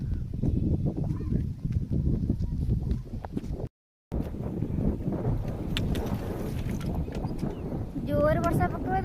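Strong wind blows across an open field, buffeting the microphone with a steady low rumble while a person talks over it.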